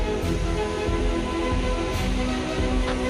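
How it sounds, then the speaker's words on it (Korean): Steady, loud rushing roar of the 120 m Gujang Falls in Gangcheonsan county park in autumn, a dense, unbroken wash of falling water that fills the whole clip with no voices. "하여튼 제가 본 폭포 중에서는 최고입니다"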